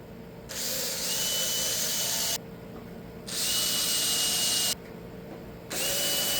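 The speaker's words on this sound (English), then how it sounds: "we'll get a super sharp drill bit and pop some small holes" A power drill with a sharp bit whines in three loud bursts, each lasting a second or two, with brief pauses between as it bores small holes in a 1969 GMC C10 radiator support.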